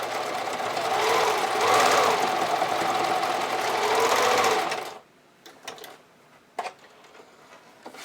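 A sewing machine stitches steadily across the join of a bra strap, a loud continuous whirring run that stops abruptly about two-thirds through, followed by a few faint clicks and handling sounds.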